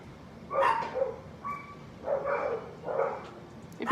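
Several dogs barking in a home kitchen, in bursts of a few loud barks with short gaps between them, with no talk over them.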